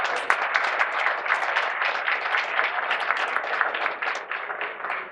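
An audience at a Chicago Chinatown candidate forum applauds, a dense, steady patter of clapping lasting about five seconds and fading slightly at the end.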